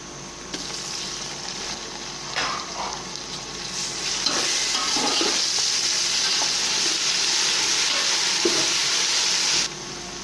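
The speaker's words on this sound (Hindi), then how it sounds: "इसे हम थोड़ी देर फ्राई करेंगे" A steady, loud sizzle of paste frying in a hot pan, with occasional soft scrapes of stirring up close.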